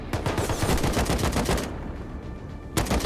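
Gunfire in the survival game Rust: rapid bursts of loud, close shots rattle for about a second and a half, a quieter gap follows, and then another sharp shot bursts at the end.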